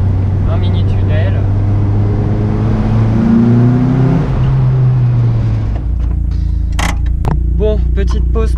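A Lotus Elise sports car drives along winding roads, its engine droning loud and close with rising and falling revs, then a few sharp bursts and clatters near the end while a voice talks over it.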